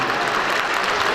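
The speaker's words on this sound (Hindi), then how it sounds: "भरपूर तालियां होनी चाहिए मैम के लिए।" Audience applause fills a convention hall during a campus ceremony at the Silver Jubilee Convention Center in Islamabad: dense, steady clapping from a large crowd, with no voices over it.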